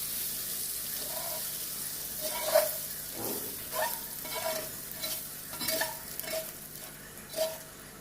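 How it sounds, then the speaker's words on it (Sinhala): A fried tempering mixture is added to boiled chickpeas, giving a soft continuous sizzle with repeated spoon stirs and light clinks against the pot, fairly quiet and close. "දැන් මම මේ ටික තම්බගත්ත කඩල වලට එකතු කරනවා."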